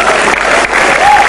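Loud, dense audience applause fills the room at an Indonesian stand-up comedy show, a continuous burst of clapping from a close crowd.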